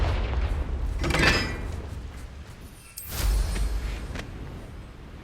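In Hogwarts Legacy, the Confringo fire spell bursts into a heavy explosive boom with a rushing blast. A second sharp crack strikes about three seconds in, followed by a rumbling tail.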